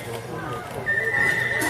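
A horse neighs during a ranch riding session, a steady whinny under some background talk and hoofbeats, moderately loud and close.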